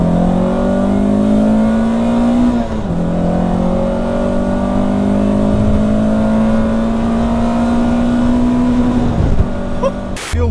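A Peugeot 106 Rallye hot hatch accelerates hard from a rolling start in second gear, its engine note climbing steadily and loudly, dipping briefly at a shift near the start, then rising again before cutting off at the end.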